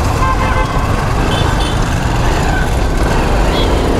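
Dense road traffic rolls past in a loud, constant roar of car, truck and bus engines, with a few short horn toots cutting through close by.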